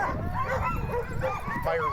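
Sled dogs bark, yip and whimper in an excited chorus before a race, a dense, continuous clamor close by with a person speaking over it.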